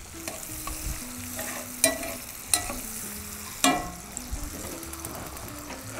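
Garlic and onions sizzle in a hot frying pan for crispy pancit canton, a steady crackle broken by several sharp scraping clacks of a utensil stirring against the pan, close and alone.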